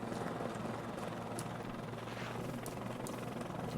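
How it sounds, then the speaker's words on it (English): A helicopter arrives in Postal 4, its steady rotor whir and low engine drone holding loud and constant throughout the few seconds. "Did they actually call in the chopper?"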